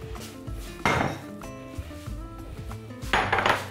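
A bowl and cutlery handled in a home kitchen while preparing an arugula salad: a few close, bright clinks and knocks of dish and metal with brief scraping, with no one talking.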